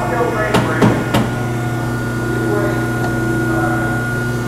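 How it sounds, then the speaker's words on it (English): A Scotchman 5014ET 50-ton hydraulic ironworker hums steadily while its die strikes metal in three quick, sharp impacts, the last hit ringing briefly before the machine's drone carries on alone. "particular tool is going to smash and trim the material"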